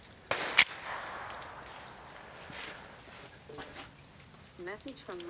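A Ruger SR 1911 pistol in .45 ACP fires at a sportsman's club range, one sharp loud report standing out among fainter pops and range noise, with voices talking afterward.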